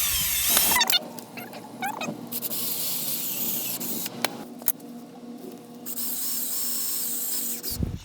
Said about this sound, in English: Now Sister's drilling the holes in this piece